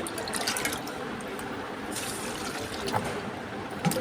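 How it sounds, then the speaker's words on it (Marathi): Water poured onto plants at home, a steady splashing and trickling wash that runs continuously at close range, with a few louder drips and splashes near the end. "आणि हे बघा, झाडांना पाणी मस्त देऊया."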